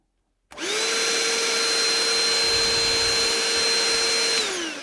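A Ryobi RHV18 cordless hand vacuum cleaner switches on abruptly and runs at a loud, steady whine with airy rushing close by, then starts to wind down at the end.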